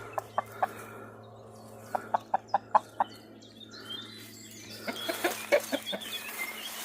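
Chickens cluck outdoors in a dell, a series of short, soft clucks in small bursts, fairly close, with a gentle outdoor background and more scattered clucking and chirps near the end.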